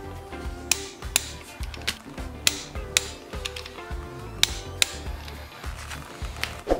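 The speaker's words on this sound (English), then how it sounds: "I'll start with torquing these down to 37 foot-pounds" A torque wrench tightens bolts during a 4.88 front gear install on a Toyota Tacoma. Crisp ratcheting clicks and metallic taps repeat in a steady rhythm, close and alone.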